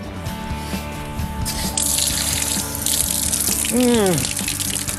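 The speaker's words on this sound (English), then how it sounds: "a tap is installed so that we can water the garden" Water gushes from a garden tap fitted to a rainwater tank, a loud steady splashing flow with a brief rising-and-falling tonal sound near the end.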